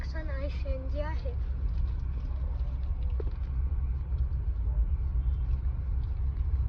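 A new Tata Nexon CNG car drives on rain-soaked, pothole-filled roads, with a low engine and road rumble running steadily throughout. Someone talks over the first part.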